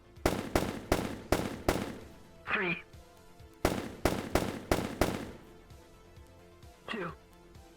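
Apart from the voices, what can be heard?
gunshots in VRChat video game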